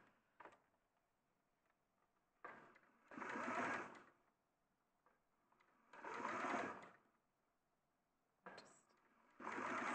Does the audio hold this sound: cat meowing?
no